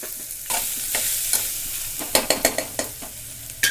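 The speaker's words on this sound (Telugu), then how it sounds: "ముందుగా కట్ చేసుకున్న క్యారెట్ని అందులో వేసుకోవాలి బాగా ఫ్రై అవ్వనివ్వండి" Chopped carrots frying in a pan for a carrot and moong dal curry: a close, steady sizzle broken by a few spatula stirs and a quick run of scraping strokes, no talking.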